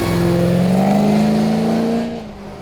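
An SSV wagon accelerates hard at a roll racing event, the engine note climbing loud and close before fading as it pulls away.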